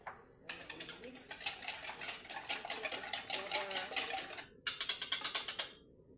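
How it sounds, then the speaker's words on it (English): A whisk beating sugar and batter for pumpkin mandazi in a bowl, rapid metallic ticking and scraping in quick rhythmic bursts, close and clear, with a brief pause before resuming. "Then I will whisk"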